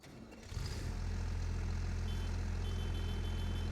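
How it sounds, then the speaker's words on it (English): A harvester in Farming Simulator cranking over and catching, its low engine drone rising and settling into a steady loud hum with faint high whines above it. "Oh, got start engine."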